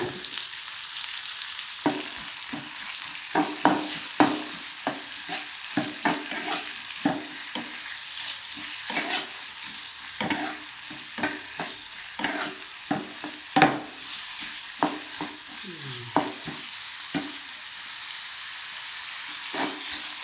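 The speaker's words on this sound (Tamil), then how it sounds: "தக்காளி போட்டு வதங்கிடுவீங்க இப்போ வந்து நம்ம கொஞ்சம் உப்பு போடலாங்க" Tomatoes with salt sautéing in a pan for tomato onion chutney, with a steady soft sizzle broken by frequent scraping stirs of the spatula, close and fairly quiet throughout.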